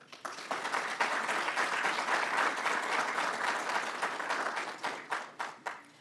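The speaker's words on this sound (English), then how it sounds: "So let's all give a huge round of applause to our graduates" A graduation and promotion ceremony audience gives its graduates a big round of applause, dense crowd clapping that swells quickly, holds strong, then breaks into a few fading individual claps at the end.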